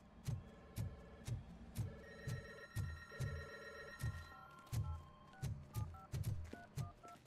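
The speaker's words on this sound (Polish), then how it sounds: "Telefon." Telephone ringing in the video game RoboCop: Rogue City, a steady repeating electronic ring pattern with rhythmic low thumps underneath, moderately quiet and without talk.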